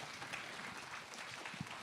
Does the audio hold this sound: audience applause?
yes